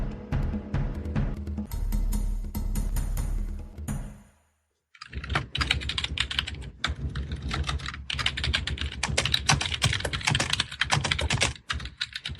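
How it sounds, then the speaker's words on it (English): Rapid typing on a computer keyboard with crisp, irregular key clicks, fairly close and continuous, broken by a brief quiet gap midway, with a low background hum underneath. "We can hear the typing."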